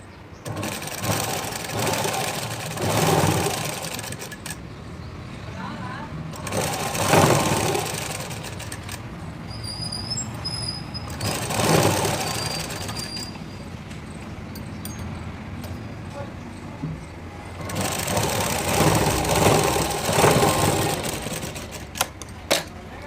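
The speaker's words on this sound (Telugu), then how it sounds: "ఇది ఇలా హోల్డ్ చేసుకొని పెద్ద కుట్టు పెట్టుకొని కుట్టండి" A sewing machine stitches the back part of a blouse with long stitches, running in several loud sustained bursts separated by pauses, with faint voice and handling noise between the runs.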